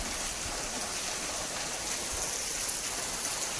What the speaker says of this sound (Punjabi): ਨਾਲੀ ਦਾ ਦੇਖੋ ਗੰਦਾ ਪਾਣੀ ਕਿਵੇਂ ਜਾ ਰਿਹਾ